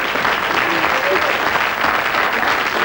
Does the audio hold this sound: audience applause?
yes